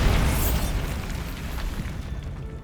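The Bombarda spell explodes in the video game Hogwarts Legacy. A loud, broad booming blast with rumbling debris fades out slowly over a couple of seconds.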